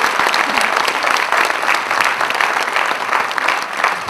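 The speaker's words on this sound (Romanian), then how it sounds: "Vă rog să-l aplaudați că odată să-i treacă un moment." A hall audience at a special event applauds steadily, a dense sustained clatter of many hands clapping up close, with a voice faintly present underneath.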